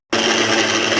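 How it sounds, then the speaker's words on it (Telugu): Mixer grinder blending banana, milk, sugar and ice into juice, starting abruptly after a brief silence and then running as a steady, loud, even whir with no breaks. "ఇప్పుడైతే మిక్సీ అయితే పట్టించేస్తానండి."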